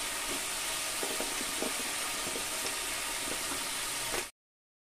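Potatoes frying in spiced oil in a pan, giving a steady close sizzling hiss that holds evenly, then cuts off abruptly.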